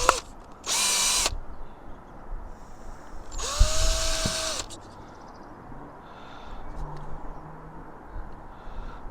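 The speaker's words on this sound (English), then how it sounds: "I'm going to just drill a hole through there, through that," A power drill boring a hole through plastic on a boat's radar arch, with two loud whirring bursts over steady outdoor background noise and crows cawing in the distance.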